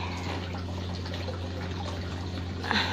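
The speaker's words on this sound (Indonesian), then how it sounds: "air hujan jatuh ke sini." Rainwater pours steadily into a garden tank, a continuous close, even rush of falling water with a low hum underneath and a slightly brighter splash near the end.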